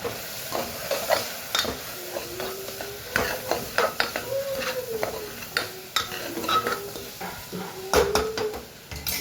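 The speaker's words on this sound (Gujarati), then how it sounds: "સાથે સાથે મીઠું એડ કરીએ. સરસ મિક્સ કરી લઈએ." A spoon stirs vegetable curry seasoned with salt and chili in a cooking pot, giving irregular scraping and clinking strokes over a soft, steady sizzle.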